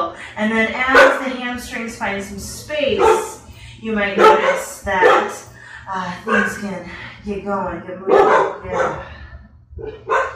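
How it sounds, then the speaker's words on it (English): Dogs bark repeatedly in the background, yipping at intervals beneath continuous instructional talk from a person in the room. "You might hear my dogs, they agree with me right now, they're barking."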